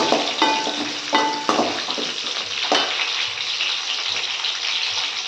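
Onion and curry leaves fry in a pan for a sour bitter gourd tamarind curry, a steady close sizzle with a few brief clinks and stirs, no one talking.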